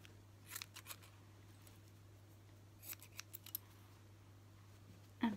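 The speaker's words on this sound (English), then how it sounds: "So I shall just cut up rough" Scissors cut silky patterned fabric into rough petal shapes, with short bursts of crisp snipping in small clusters, close and quiet over a faint steady hum.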